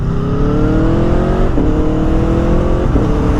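Loud, steady exhaust drone from a 2022 Aprilia Tuono V4 Factory motorcycle with an Akrapovic slip-on, its pitch rising in waves with each rev and dipping briefly between gear changes.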